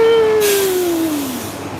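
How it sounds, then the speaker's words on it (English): An express monorail glides past at a theme park, a loud sustained whine that falls slowly in pitch as it moves away, with a rushing hiss of air behind it. "Look, it's a monorail. Express monorail."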